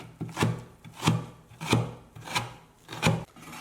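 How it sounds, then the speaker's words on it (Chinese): Knife chopping shredded winter melon on a cutting board, about six evenly spaced scraping chops close by, each a rasping stroke of the blade against wood, with no talking. "再取300克冬瓜丝，把它给稍微切碎一点"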